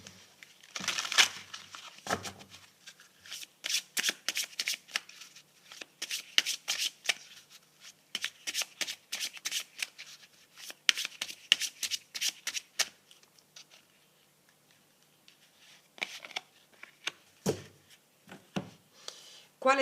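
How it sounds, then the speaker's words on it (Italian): Tarot cards being shuffled and handled during an abundance-themed reading, a rapid papery riffling that comes in repeated close bursts with short pauses between them and no voices over it. "ci mettiamo le carte dell'abbondanza"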